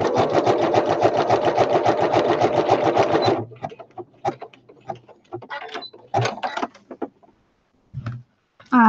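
A sewing machine stitching a vintage journal cover runs in a fast, even burst of needle strokes for about three seconds, then stops, followed by scattered clicks, handling knocks and short mechanical bursts close by.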